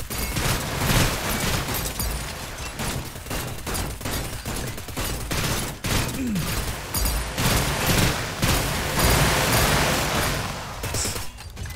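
Dense gunfire rattles through the sci-fi shooting video game Seeking Dawn, rapid overlapping shots and bursts in a continuous loud barrage with booms, lasting the whole stretch without talk.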